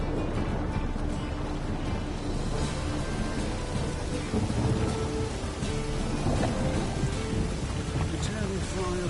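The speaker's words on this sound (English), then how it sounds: "A storm, damn it." Rumbling thunder rolls over heavy, constant rain in The Witcher 3, a dense roar of downpour with low booms swelling through it and faint game voices and music underneath.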